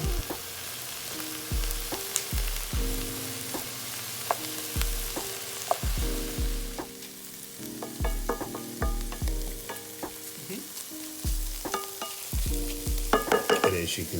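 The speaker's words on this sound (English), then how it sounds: "just kind of move everything around with a wooden spoon or something that's not" Vegetables, including mushrooms, stirred with a wooden spoon in a non-stick skillet: repeated knocking scrapes over a constant sizzle, close and distinct, with no talking.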